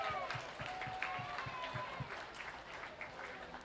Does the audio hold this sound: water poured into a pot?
no